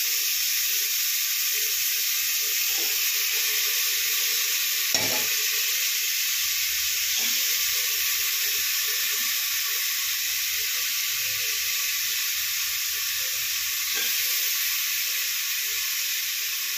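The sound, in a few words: tadka (tempering) sizzling in the pan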